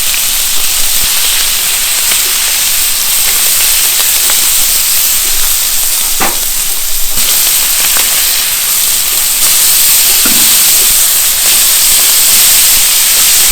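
Burger steaks sizzle loudly in a hot pan, a dense, steady hiss with faint crackles and pops throughout, close and without speech.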